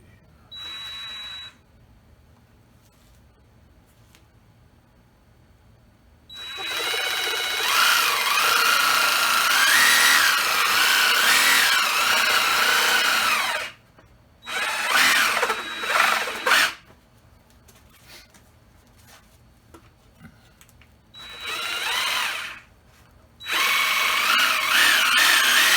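A power tool fitted with a fine-tooth metal blade cuts through wood boiler line sheathing, running loud and alone in long sustained bursts separated by brief pauses and shorter stop-start cuts.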